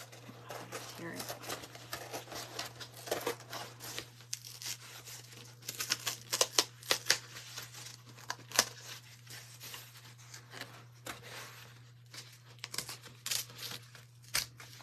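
A big piece of craft material is torn slowly by hand, giving quiet, uneven ripping and crinkling over a steady low hum, with faint talking now and then.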